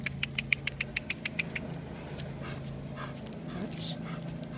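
A dog pants in quick regular rhythmic breaths close by, with steady low vehicle engine hum underneath and a brief whimper-like sound near the end.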